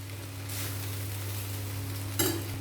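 Vegetable fried rice ingredients are stirred in a pan with soft sizzling over a low steady hum, then a sharp scrape of the utensil near the end, close and quiet.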